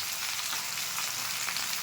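Beans and potato fry in a pan, a dense, even sizzle that holds steady and close throughout, with no voices.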